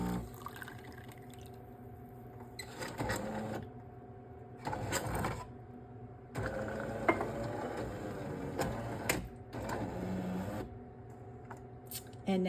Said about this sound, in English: So the machine is rinsing.